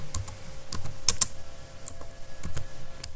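Close, steady typing of a search query on a computer keyboard, with a rapid, uneven run of key clicks and a few sharper key strikes.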